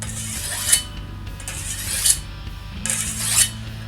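A machete blade is drawn along a sharpening stone or file in three slow, evenly spaced rasping strokes, close and clear with no talking.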